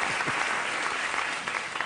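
Studio audience applause during a Morgan Freeman television interview, a dense, even burst of clapping filling the whole moment without talk.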